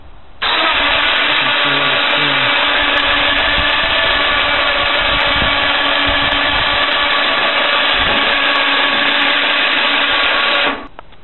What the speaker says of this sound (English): This is our raise and lower mechanism with the winch.